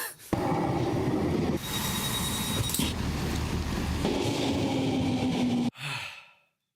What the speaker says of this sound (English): The train's coming soon.